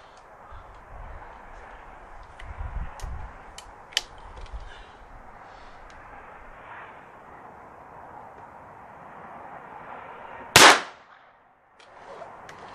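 A Stevens Model 40 new model pocket rifle with a Weaver 2.5 power scope fires one sharp, loud shot near the end, after a stretch of quiet outdoor background with faint clicks and handling noises.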